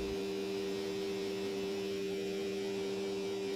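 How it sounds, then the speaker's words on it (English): Vacuum pump on a CNC machine running steadily in a workshop, a continuous loud mechanical hum with a strong electrical drone that holds unchanged throughout, no voices. "Turning on the vacuum pump, and we are going to get started running this next part."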